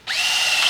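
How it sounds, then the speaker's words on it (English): A power drill starts abruptly and runs at a steady high whine, close and loud, for under a second with no talking over it. "Where's the other drill?"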